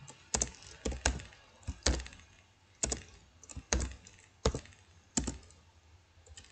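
Typing on a computer keyboard while entering HTML code: about a dozen sharp, close key clicks and clacks in irregular bursts, some doubled, with quiet gaps between and no talking.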